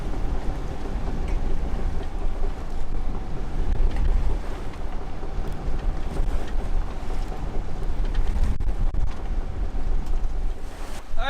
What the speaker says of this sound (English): With the bow of the boat smashing into the water, it was quite a ride